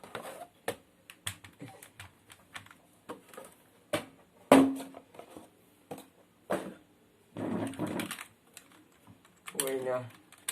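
Someone types on a computer keyboard for a gaming PC, with scattered key clicks and short bursts of tapping. There is one louder knock partway through, and a voice speaks briefly near the end.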